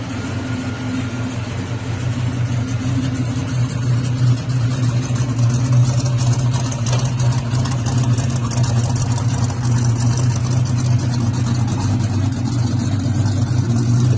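Oldsmobile 350 V8 idling with an old Monte Carlo carburetor, not yet tuned, timing still off: a loud, steady, close rumble with a constant low throb and no revving throughout.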